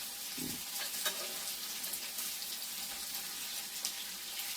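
Pork belly frying in a pan over high heat, giving a steady, dense sizzle and crackle that continues unbroken throughout, fairly quiet and with no talk.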